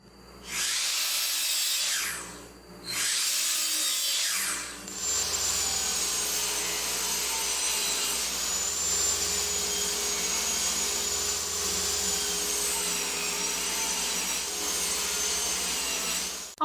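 A table saw rips fence picket wood down to two inches, two short cuts with brief pauses followed by a long continuous whining cut, loud and close with no talking.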